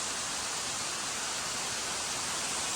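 Waterfall on a trail in the Pisgah Ranger District of North Carolina, heard from midway up the falls: a steady, dense roar of rushing water, fairly close and unbroken, with no voices.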